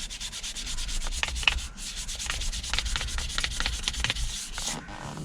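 Sandpaper rubbing over a steering wheel rim to smooth out porosity during a refurb, a close, steady scratchy scrubbing in quick repeated strokes with no talking.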